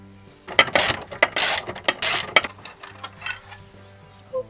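A ratchet wrench on a long extension turns out a bolt holding an oil catch can, giving bursts of loud, close clicking ratchet strokes with brief pauses and a light metallic clink near the end.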